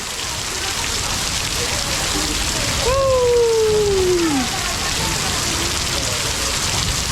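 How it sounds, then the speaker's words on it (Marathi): Steady heavy monsoon-style downpour pours in a dense, even roar, with a brief wavering voice-like tone rising above it midway. "गाजता वाजता आमच्याकडे पाऊस असं मस्तपैकी बघा"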